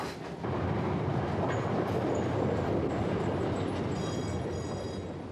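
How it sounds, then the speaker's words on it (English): A train rumbles along the rails, a steady loud roar with faint rhythmic clatter, no voices. "The train arrived at Raynes Park at 11:53."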